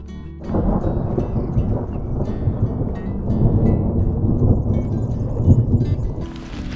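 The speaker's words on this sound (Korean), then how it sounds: "아니 천둥 번개가 쳐요" Thunder rumbles loud and close through a summer storm with rain, a broad sustained roll lasting several seconds, with no voices.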